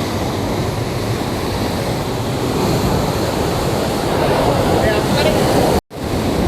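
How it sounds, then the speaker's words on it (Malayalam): Big ocean waves crash and surge steadily onto Colachal beach near the fishing harbour, a loud continuous roar of surf with wind buffeting the microphone, broken by a brief dropout near the end. "ഭയങ്കര തിരയാണ്, ഇവിടെ നിൽക്കാൻ പറ്റില്ല"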